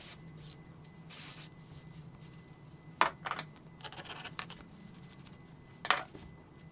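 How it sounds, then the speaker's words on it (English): Spray adhesive hisses onto foam in short bursts while crafting a Halloween bucket, with two sharper spray blasts standing out over a quiet room and faint handling clatter between them. "I prefer to spray it to the foam"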